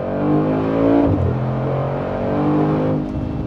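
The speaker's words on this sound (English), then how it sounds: "You can hear it now, the revs have picked up." A powerful car engine set to Sport Plus mode revs up loudly and close, a steady throaty drone that swells and briefly dips before holding high.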